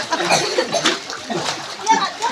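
Water splashing as someone jumps into a well, with chaotic splatter and sloshing running through the whole moment and voices talking and calling over it.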